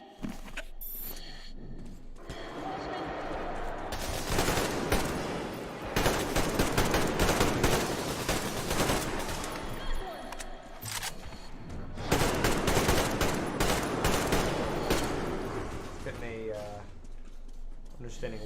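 Bursts of automatic gunfire from Metro Exodus gameplay, loud sustained volleys in two long stretches separated by brief lulls, with a voice talking over the action.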